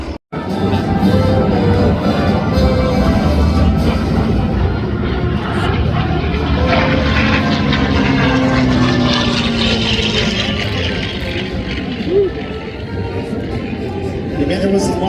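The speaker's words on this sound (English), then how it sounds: "As you can hear the roar of the wing engines, the Avenger comes." Wing-mounted propeller engines of an Avenger warplane roar steadily and loudly throughout at an airshow, a dense continuous drone with a voice faintly beneath it.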